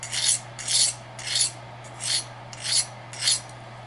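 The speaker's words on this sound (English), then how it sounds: "you come back with your diamond hone, and if there's any burrs on the knife, you want to try to take the burrs off" Pocket knife blade drawn across a diamond hone to remove burrs, six evenly spaced rasping strokes, close and clear, over a steady low hum.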